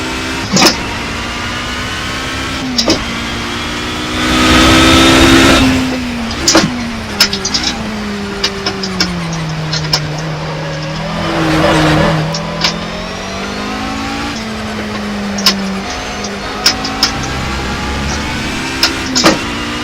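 A race car in the Project Cars video game, its engine loud and close, rising and falling in pitch through revs, downshifts and braking, with brief quieter dips between bursts.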